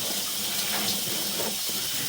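Water splashes and trickles steadily over the lens of a camera inside an old drain pipe during a sewer inspection, a continuous close wash of hissing flow with no voices.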